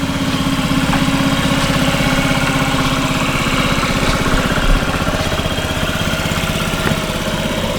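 A 2014 Honda Ruckus scooter engine idles steadily and loud up close, a continuous low putter with a slight vibration and no talking.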